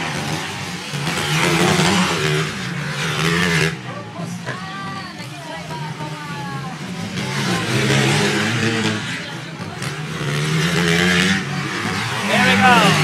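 Motocross bikes race in a Pro Open MX1 heat, engines rising and falling in whining revs as they pass at varying distances, with a commentator talking over the racket throughout.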